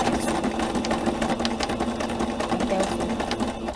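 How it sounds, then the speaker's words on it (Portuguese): A sewing machine runs steadily, stitching forward and then backstitching during a beginner sewing lesson, with a continuous close whirring hum and faint voices under it. "Aí, a gente vai começar a costurar e dar um retrocesso."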